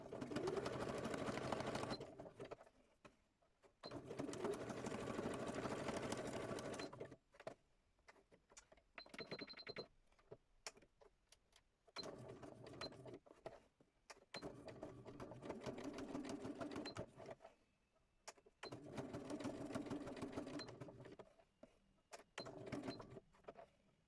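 A sewing machine stitches a very small zigzag, running in several bursts of a few seconds each with brief pauses between them, close and steady, with no talking.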